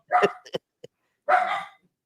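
A dog gives a few short barks and yips in quick succession, then a longer whining bark after a pause, close by and fairly loud.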